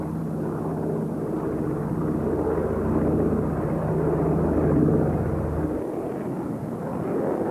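A Douglas C-47 Dakota flying low and slow drones steadily throughout, a heavy, continuous propeller-engine rumble that swells slightly midway, then eases a little as the pitch drops near the end.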